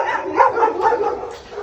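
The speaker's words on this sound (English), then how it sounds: "you're confronted with a chorus of barking" A chorus of dogs barks and yips together in humane society kennels, a dense, continuous overlapping clamour with no pauses.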